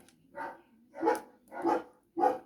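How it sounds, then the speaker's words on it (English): A dog barks four times in a steady rhythm, each bark clear and fairly close, with quiet gaps between and no talking. "Please shut your mouth, dog,"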